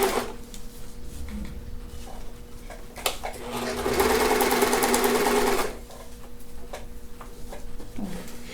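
A sewing machine stitches bias binding under the presser foot, its motor whirring steadily in one long run of a few seconds amid quieter handling noise before and after.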